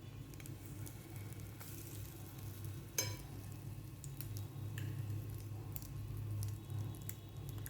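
Cinnamon French toast slices fry in a pan, giving a faint, steady sizzle with one small clink partway through and no talking.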